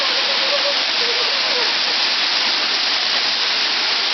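A waterfall roars as a steady, loud broadband rush of falling water, filling the scene evenly from start to finish with no pauses or breaks in the sound.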